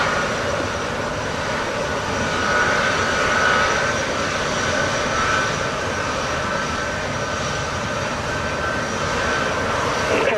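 An airliner landing on runway 07 at Montego Bay airport in Jamaica, its jet engines giving a loud, steady roar heard from the ground throughout, with no talk.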